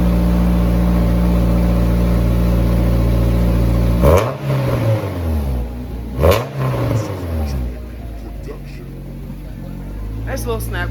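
A car engine fitted with a new throwout bearing drones loudly, then revs sharply twice, each surge dropping back with crackles and pops from the exhaust, followed by a quieter idle.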